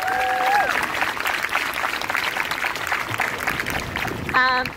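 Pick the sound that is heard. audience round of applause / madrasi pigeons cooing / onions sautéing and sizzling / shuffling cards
audience round of applause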